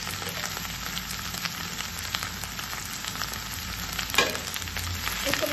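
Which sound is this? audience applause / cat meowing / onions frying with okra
onions frying with okra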